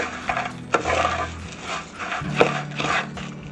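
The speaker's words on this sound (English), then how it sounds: "we're going to add our 1 stick of melted butter or margarine. In this case, it's margarine. And we're going to mix it very well" A spoon working melted margarine into a pie crust mixture in a bowl, producing close rubbing and scraping strokes with a couple of sharper knocks, steady and fairly loud, with no voices.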